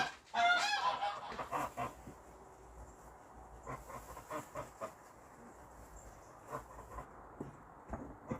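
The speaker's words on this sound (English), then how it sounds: "Oh, the geese have heard me." Geese honking outdoors, a burst of loud honks at the start followed by scattered, fainter calls repeating irregularly over low background noise, with no talking.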